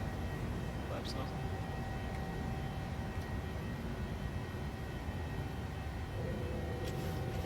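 An airliner's engines roar steadily while climbing after takeoff in a flight simulator, a constant broadband drone with a faint tonal whine that stays level throughout, with no other sounds over it.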